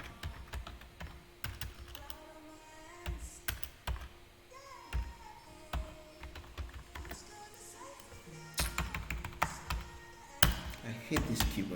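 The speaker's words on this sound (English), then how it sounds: "I hate this keyboard. I have to get a better keyboard." Fingers typing on a computer keyboard nearby, irregular bursts of clicky keystrokes with short pauses, growing busier and louder toward the end.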